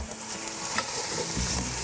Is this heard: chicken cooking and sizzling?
yes